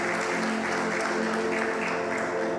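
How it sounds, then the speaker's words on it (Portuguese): A church audience applauds in sustained, even clapping at a moderate level, with a faint tonal hum underneath. "Aplauda o Senhor mais uma vez com toda a sua força"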